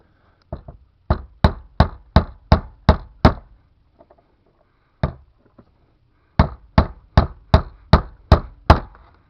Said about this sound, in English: Hammer this side again.